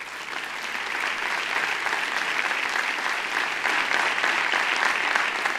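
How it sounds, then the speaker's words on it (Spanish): Church congregation applauding during a Spanish-language sermon, a steady, dense wash of many hands clapping that holds evenly for several seconds with no speech over it. "Dale un aplauso al Señor."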